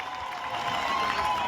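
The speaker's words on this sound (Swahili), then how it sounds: "Wapi makofi ya mheshimiwa wa Muratha Women rep Kiambu County." Applause for the Muratha Women Rep of Kiambu County at a Gatundu gathering in Kenya, a short burst of dense clapping and cheering from a crowd, loud and continuous.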